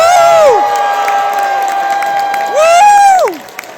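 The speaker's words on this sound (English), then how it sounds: "Cheer really loud like you like Final Fantasy or something." A convention crowd at a Final Fantasy VII Rebirth cast panel at Florida SuperCon cheers loudly, with high whoops rising and falling in two bursts, then quickly fading.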